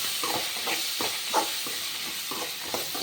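Turkey berries frying in oil for a thokku, a steady hissing sizzle broken by repeated soft stirring scrapes at an even pace, close by, with nobody talking.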